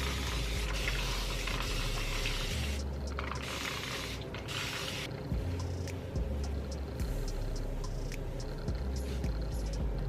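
Water runs steadily from a tap to wet natural curly hair before a silk press, a continuous splashing wash with small shifts in flow and no talking.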